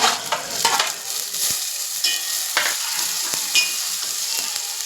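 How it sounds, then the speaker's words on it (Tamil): Garlic, ginger and green chili fry in a hot pan for a fish curry, a steady broadband sizzle with occasional stirring scrapes and crackles, close and continuous with no voices. "வெள்ளைப்பூடு, இஞ்சி அண்டு பச்சை மிளகா எல்லாம் கொஞ்சம் நல்லா வேகட்டும்."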